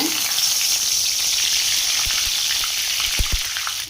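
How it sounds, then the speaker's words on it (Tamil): A handful of curry leaves frying in hot oil, loud dense sizzling throughout with a few sharp pops and crackles toward the end, close up and uninterrupted by speech. "ஒரு நாம்பல் கருவேப்பில்லைங்க, அதை அப்படித்தாங்க எண்ணெயில் பொரிச்சு எடுத்துக்கலாங்க"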